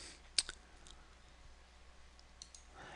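A single sharp computer mouse click, quiet and brief, against a faint steady room hum, followed by a few softer ticks.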